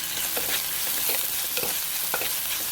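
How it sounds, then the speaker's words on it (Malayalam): Mackerel curry masala with salt frying on a slow flame while being stirred in a pan, a steady sizzle with irregular scraping and clinking strokes of the spoon, close and alone without talk. "നന്നായി ഇളക്കിക്കൊണ്ടിരിക്കുക"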